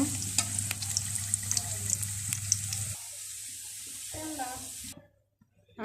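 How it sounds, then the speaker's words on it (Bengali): Onions fry in oil in a pan, a steady close sizzle with scattered crackles and stirring clicks for about five seconds, with faint voice-like sounds beneath before it stops abruptly. "পেঁয়াজগুলো সুন্দর করে বাদামি কালার করে ভেজে নেওয়া হয়ে গেছে"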